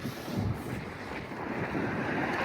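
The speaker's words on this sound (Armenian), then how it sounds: "Ուժեղ քամի ա շատ։" Strong wind buffeting the microphone outdoors, a steady loud rumbling roar with gusty swells throughout and no voices.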